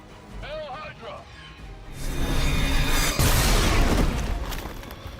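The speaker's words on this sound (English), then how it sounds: "and then the guy's gonna explode" An explosion goes off in Marvel's Midnight Suns, a rising boom that swells into a long loud rumbling blast, with a voice talking faintly before it builds.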